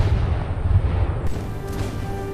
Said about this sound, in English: Let's take a look at some of my artillery.